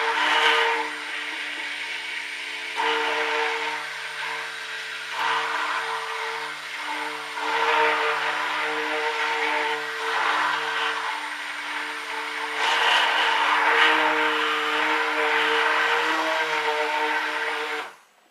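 An electric mixer runs on low while blending soap oils for bay rum marble soap, a steady whining motor hum with shifting texture that holds throughout and stops abruptly at the end.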